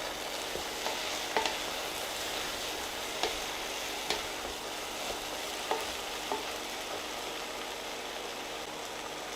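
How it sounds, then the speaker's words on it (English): Onions and aubergines fry in a pan with a steady, close sizzle, broken by occasional sharp clicks and scrapes of stirring; no one speaks. "it's time to put in the onions, and we're going to cook these down as well"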